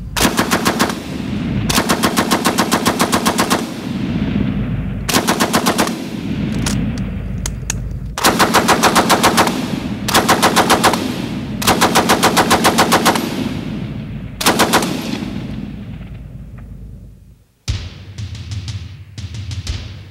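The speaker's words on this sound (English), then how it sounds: "The Bren gun is chambered in caliber 303 British." Bren light machine gun chambered in .303 British firing full auto in a string of long, loud bursts separated by short pauses, each ending in a ringing echo, with a final burst of shorter rapid shots.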